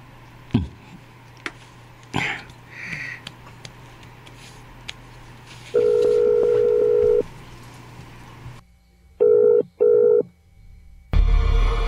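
Cellphone call tones while dialing someone named Kaloy: a long steady electronic tone, then two shorter beeps after a pause, over a faint indoor background with scattered clicks.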